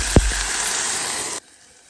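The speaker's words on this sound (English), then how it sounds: "It just splattered a little bit." Water poured into a hot pan of curry spices with turmeric and coriander sizzles and splatters in a loud, steady hiss, then cuts off abruptly near the end.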